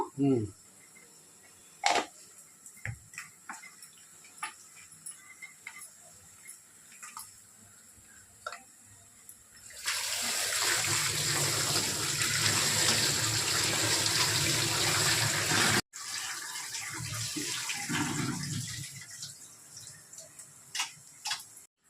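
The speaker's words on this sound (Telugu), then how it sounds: "చికెన్ 3 సార్లు కడిగాను, కానీ మళ్ళీ పసుపు వేసి కడుగుతాను." Tap water runs loudly and steadily for several seconds while raw chicken is washed with turmeric. Quieter clinks and handling sounds come before the water and continue after it stops.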